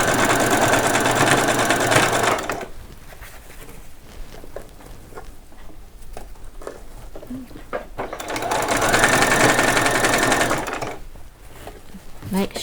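A sewing machine stitches a doll saree's waistband in two bursts of rapid, even clatter, one at the start and one midway, with quieter pauses of handling and a person talking in between.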